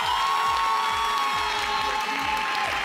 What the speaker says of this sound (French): On va vous évaluer à l'applaudimètre.